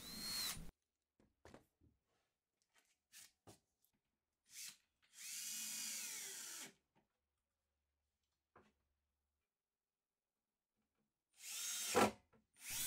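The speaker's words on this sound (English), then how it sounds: "So I drill some pilot holes on the carcass" A power drill bores pilot holes into the carcass of a wooden blanket chest, heard as short whirring bursts with one longer run in the middle, separated by quiet pauses and small knocks.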